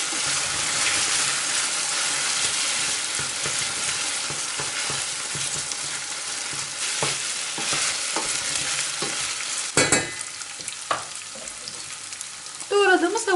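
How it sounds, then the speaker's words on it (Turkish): Chopped onions and tomato paste fry in a pan, sending out a loud, constant sizzle. Spatula stirring scrapes through it, and a few clearer clinks and bubbling sounds break in toward the end. "Tekrardan 1-2 dakika hepsini kavuralım."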